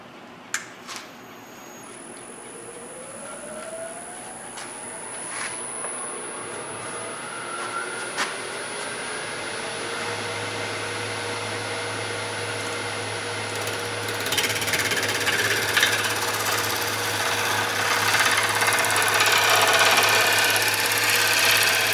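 A lathe whirs steadily at close range while turning a part, with a high whine above a low hum, then grows louder and rougher as sanding begins against the spinning workpiece.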